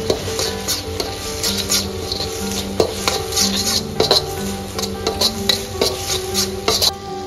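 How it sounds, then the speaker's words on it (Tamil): Carrot, beans, onion, cabbage and capsicum stir-fried in oil in a kadai for chicken Schezwan fried rice, with rapid, close, loud metallic clatters and scrapes of a spatula against the pan over a steady background hum. "first carrot, beans, onion, cabbage, capsicum இது எல்லாத்தையும் நல்லா ஃப்ரை பண்ணி எடுத்துக்கோங்க"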